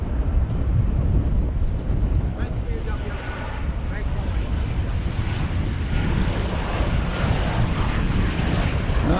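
An airplane arriving at DFW Airport on a flight from Las Vegas gives a loud, steady, broadband jet roar that fills the whole stretch, with faint voices beneath it.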